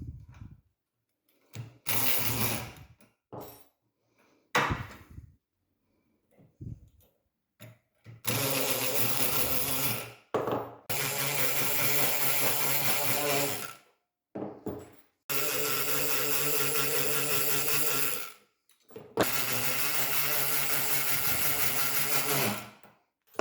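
A Multipick Kronos pick gun buzzes hard against a lock cylinder in loud, rapid vibrating bursts, close by, stopping and restarting several times with short silent gaps between runs of several seconds.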